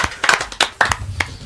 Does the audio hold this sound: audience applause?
yes